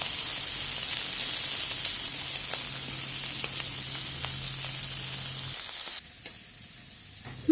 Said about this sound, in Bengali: এবার খুব কড়া করে মাছগুলো ভেজে নেব।